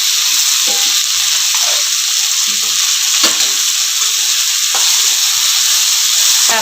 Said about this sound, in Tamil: அப்படி எண்ணெயிலே வேகட்டும்.